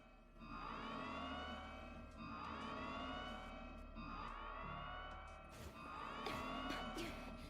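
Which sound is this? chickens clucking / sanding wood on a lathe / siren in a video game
siren in a video game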